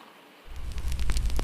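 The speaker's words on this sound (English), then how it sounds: "The rain has been falling for a while now, soft and steady" Soft, steady rain falls around a cabin in the woods at night, a dense low patter with scattered close drips that swells after a quiet opening.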